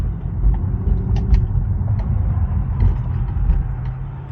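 Infiniti Q50 fitted with a new motor and new turbos, a steady low engine rumble close by as the car drives, with a few faint clicks and knocks over the top.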